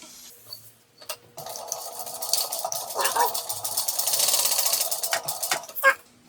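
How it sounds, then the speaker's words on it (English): A sewing machine stitches down the edge of a small tote bag, its fast whirring run starting and stopping in bursts, close and steady between brief pauses. "So what I'm going to do is I'm going to stitch down in a little bit and down to the end."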